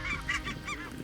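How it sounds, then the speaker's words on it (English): A flock of snow geese and Ross's geese on a Saskatchewan waterfowl hunt honks close by, several quick overlapping nasal calls in rapid succession. "we had flock after flock after flock of mostly snows and Rosses coming in"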